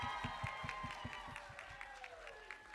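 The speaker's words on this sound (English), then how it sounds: "Let's give those contestants one more big round of applause" Audience applause for costume contestants at the Cosplay America 2024 costume contest: steady, rhythmic clapping that holds at a fairly even level for about three seconds, with a sustained tonal background running underneath.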